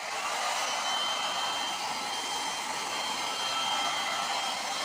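A heat gun blows hot air onto a deformed plastic radiator top tank during a DIY leak repair, a steady, close, loud airy whoosh that runs unbroken and alone.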